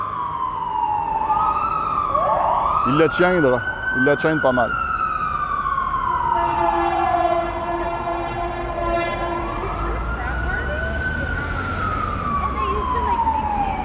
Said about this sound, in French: Une intervention d'un camion de pompiers qui arrive lentement, mais sûrement.